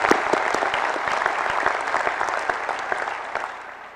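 Audience applause at a university presidential inauguration ceremony, a dense, steady clapping from a large hall crowd that slowly tapers off.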